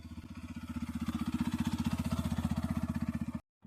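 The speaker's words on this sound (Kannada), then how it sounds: "ವಿಡಿಯೋ ಮಾಡ್ಬೇಕಂತ ನಮ್ಮ ಫ್ರೆಂಡಿಗೆ ಬೈಕ್ನಾಗ ಬರ್ತಿರೋದು." Motorcycle ridden by a friend, a single-cylinder style putter of rapid regular pulses at close range, steady for about three seconds before cutting off abruptly.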